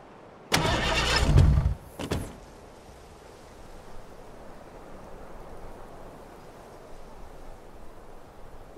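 A car in the Fortnite video game starts up with a loud engine roar lasting about a second, a short second burst, then settles into a quiet, steady idle that continues alone.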